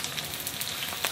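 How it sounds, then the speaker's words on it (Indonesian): Chicken karaage frying in oil at a camp cooking spot, a dense, steady close-up sizzle with crackling pops and no talk. "Ini goreng chicken karage"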